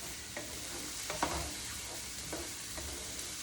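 Onions and fresh garlic sauté in a pan with a soft, continuous sizzle, broken by a few light stirring scrapes and taps, fairly quiet throughout.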